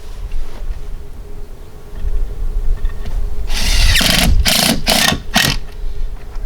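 A power driver sinks screws into exterior window trim in several short, loud whirring bursts near the end, after a quieter stretch of faint workshop noise.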